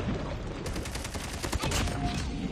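Rapid KN44 rifle fire in a multiplayer shooter match, dense and loud, a fast rattling stream of close shots running almost without a break.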